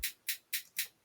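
Four crisp, evenly spaced hi-hat hits programmed in FL Studio, bright and hissy, a steady fast pattern with nothing else playing.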